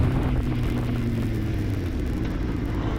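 A 1998 Honda CBR 600 racing motorcycle at a vintage open road race, heard on board as a steady, dense engine drone with a low rumble that holds constant throughout.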